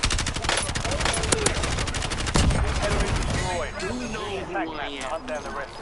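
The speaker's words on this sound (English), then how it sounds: "he's shooting at me" Rapid automatic gunfire rattles in close bursts during a Warzone match in Haven's Hollow, with a heavy single blast partway through before the shooting thins out. Voices talk over the clatter.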